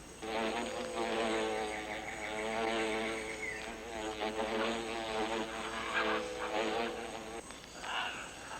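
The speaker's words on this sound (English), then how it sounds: "they cool their brood by rapidly vibrating their wings to create a current of air" Wasps fanning their wings to cool a sun-warmed nest in a rain forest make a steady, dense buzzing drone that holds for several seconds, close and fairly loud, with no talk over it.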